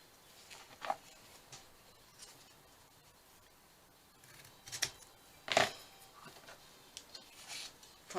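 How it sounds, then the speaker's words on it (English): Scissors cut paper into a tag shape in soft, scattered snips and rustles, close and fairly quiet, with a few sharper clicks in between. "I'm going to cut it in tag shape."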